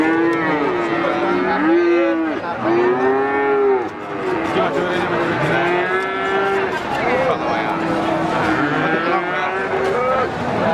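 A cow being restrained for hoof trimming moos repeatedly, long loud drawn-out calls one after another at close range, with farm background noise underneath and occasional people talking.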